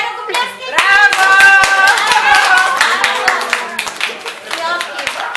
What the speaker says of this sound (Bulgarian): И сега ръкопляскайте.